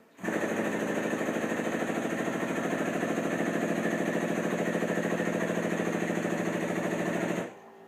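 Harbor Freight cider press driven by a larger air compressor outside, a loud steady pneumatic drone with fast rhythmic pulsing that starts abruptly and cuts off near the end, close by.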